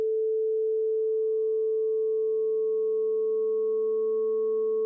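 Steady 440 Hz sine tone under light frequency modulation at index 0.10, a pure continuous hum holding for several seconds, with faint extra overtones and no voice.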